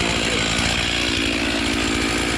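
A chainsaw bore-cutting into a storm-damaged red oak, its engine running at a steady, loud, close-up high-revving whine with no letup and no talking.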